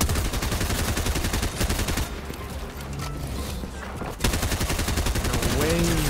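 Rapid automatic gunfire in a shooter video game, dense bursts of shots at the start and again at the end with a quieter gap between, while a player talks over the action.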